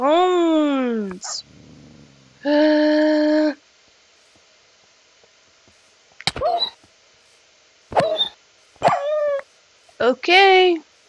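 A dog in the Minecraft video game gives short yips and barks in scattered bursts, some tonal and whine-like, with quiet gaps between them and no talk over them.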